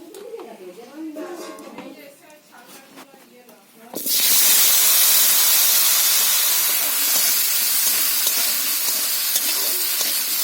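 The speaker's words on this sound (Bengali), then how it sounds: "আমি আলুটা ভেজে দিচ্ছি" Potatoes drop into hot oil in a wok and sizzle loudly, a dense, constant hissing fry that bursts in suddenly after a few seconds of talk and carries on steadily to the end.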